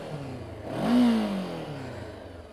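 A Honda CBR500R sport motorcycle engine revs once at a standstill, a single throaty rise and fall through its stock exhaust, close and moderately loud over a low idle.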